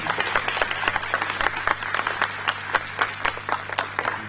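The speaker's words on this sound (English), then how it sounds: "I think it deserves a big round of applause over again." An audience at a formal meeting claps in sustained, dense applause, many hands beating steadily and evenly throughout.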